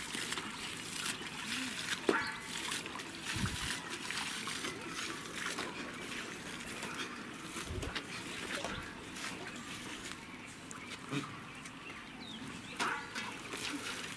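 Water flows from a pipe onto a field, a steady splashing trickle with scattered thumps and knocks, heard outdoors at moderate level.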